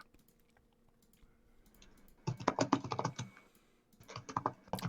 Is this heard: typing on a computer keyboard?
yes